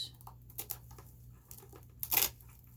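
Craft material for a Halloween centerpiece is cut down, giving quiet, close snips and crinkling tears in short, scattered bursts, with one louder tearing rustle near the end.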